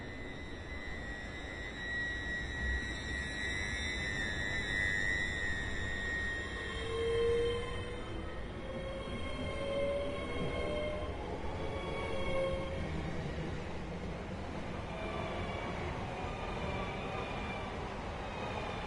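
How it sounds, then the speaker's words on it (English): Class 807 electric train in Train Sim World 6 pulling away on the West Coast Main Line, a steady rail rumble with rising electric whine tones and faint high hums, heard continuously and fairly close with no talk. "So let's see this train take off."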